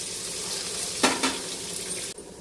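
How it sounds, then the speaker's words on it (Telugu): Mustard seeds, cumin, green chillies, onion and curry leaves fry in hot oil, a continuous sizzle broken by a couple of sharp utensil scrapes against the pan before the sound drops slightly. "ఇప్పుడు ఆయిల్ వేసిన ఆవాలు, జీలకర్ర, పచ్చిమిర్చి, ఆనియన్, కరివేపాకు అన్నీ వేసుకొని ఫ్రై చేయాలి"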